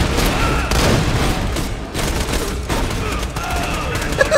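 Rapid gunfire in the video game Borderlands, dense bursts of shots and booms rattling continuously and loudly, with players' voices mixed in.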